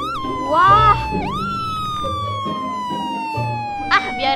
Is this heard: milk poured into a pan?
no